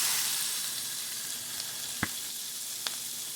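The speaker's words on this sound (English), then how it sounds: "And we're going to let those veggies cook up for about several minutes, 6 to 8 minutes, until they get tender" Green peppers and onions frying in a hot pan, a steady close hiss of sizzling with two brief sharp pops or utensil clicks, no talking.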